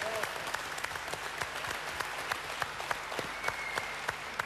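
An audience at a university event applauds, dense continuous clapping with sharp individual claps throughout, close and steady, with no voices over it.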